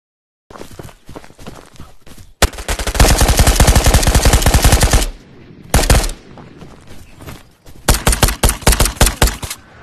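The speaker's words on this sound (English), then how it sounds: "Did you just try to shoot at me?" Gunfire in the VR shooter Ghost of Tabor: faint ticking first, then a loud, sustained automatic burst, a short volley, and a final string of rapid bursts, all close and punchy with no talking.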